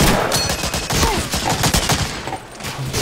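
Close gunfire in the World War II shooter Medal of Honor: Allied Assault, a string of loud rapid shots and overlapping bursts that fades slightly toward the end, with no voices.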